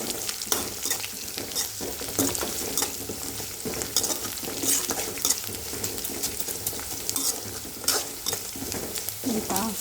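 Dry red chillies and peppercorns sizzle and crackle in hot oil in a pan while being stirred, with steady frying hiss and scraping stirs close up, no voices.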